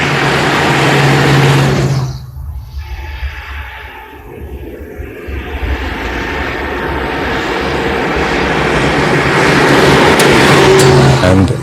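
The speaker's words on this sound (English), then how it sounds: "when you put your foot down, it's got all the power and handling ability of a Bugatti car" A Bugatti car drives loudly and close, its engine roaring, briefly dropping away, then building back up in a long, rising acceleration with no voices.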